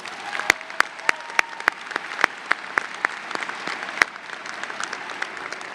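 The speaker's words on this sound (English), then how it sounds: "Let's give them a nice round of applause." Graduation ceremony audience clapping at a high school, a sparse, uneven patter of individual claps in a large hall, steady for several seconds with no voices over it.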